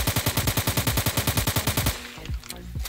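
Rapid automatic gunfire in the Skibidi Toilet video game: a loud, evenly spaced string of shots for about two seconds, then stops and leaves only faint game sounds.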